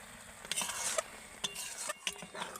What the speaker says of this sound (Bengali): ধনে পাতাটাকে যখন তেল আর মশলার সাথে এইভাবে নাড়বেন